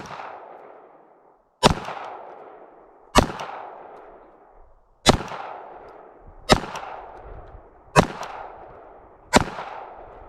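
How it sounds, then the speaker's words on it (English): Six sharp gunshots from a Sig 230 .380 pistol at an outdoor range, fired singly at uneven intervals, each loud crack followed by a short decaying echo. "We're going to shoot first a Sig 230 on loan from a friend of mine."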